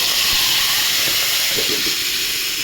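Tangra fish sizzling as it goes into hot oil with a black cumin tempering for a Bengali fish curry. A loud, steady frying hiss holds throughout, with soft crackles near the start.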